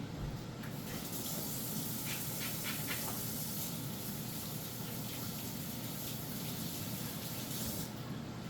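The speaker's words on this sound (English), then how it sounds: "Just going to give my hands a quick wash." Tap water runs steadily into a sink as hands are washed in a home kitchen, a continuous hissing gush with faint splashes that stops near the end.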